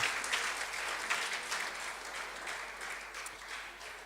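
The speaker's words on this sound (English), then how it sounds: "Give him another round of applause," Guests at a rugby referees' annual awards dinner give a sustained round of applause, dense even clapping that starts strong and tapers slightly over about four seconds, with no speech on top.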